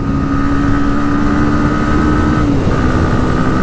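A Bajaj Pulsar NS160 motorcycle engine pulls hard in third gear, a loud, steady, close drone with a sustained tone that shifts slightly near the end, no talking.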